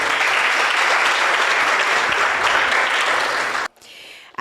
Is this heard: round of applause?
yes